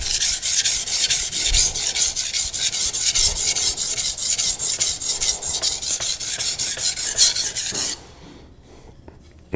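A knife edge is drawn over a sharpening stone in steady, rapid rasping strokes, loud and close, while the sharpener works to raise a burr; the grinding stops abruptly near the end, leaving faint room noise.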